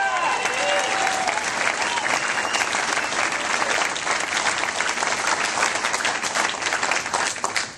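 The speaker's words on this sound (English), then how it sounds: "Another round of applause for Ben Chandler." A crowd at a Kentucky Democratic Party rally applauds a politician with loud, sustained clapping that holds steady for several seconds before starting to taper.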